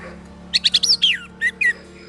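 An orange-headed thrush sings a quick series of sharp, bright chirps and whistled notes, loud and close, in two short bursts with a brief pause between.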